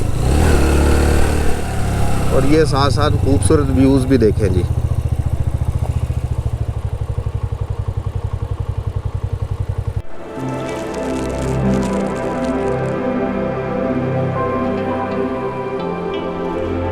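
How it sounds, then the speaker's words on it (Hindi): A motorbike grinds up a steep mountain jeep track at Baboon Top in the Neelum Valley. Its engine drones steadily and close for about ten seconds, with someone talking over it, before the sound shifts to a different, denser texture. "बाइक का मोमेंटम बना होता है और थोड़ी पिक मिल रही होती है, तो गाड़ी आपकी, बाइक आपका जो है ना वो आहिस्ता या तेज़ चढ़ता रहता है"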